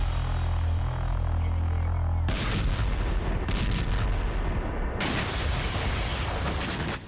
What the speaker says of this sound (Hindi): पिछले 48 घंटे से यूक्रेन के अलग अलग इलाकों में रह रहकर धमाके हो रहे हैं।